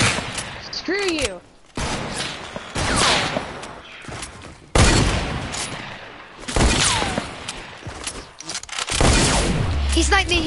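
Gunfire in a video game shooter, including sniper shots, with repeated sharp reports and dense bursts of firing, often loud and close, mixed with frantic voices talking over it.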